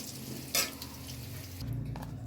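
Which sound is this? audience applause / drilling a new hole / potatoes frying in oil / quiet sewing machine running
potatoes frying in oil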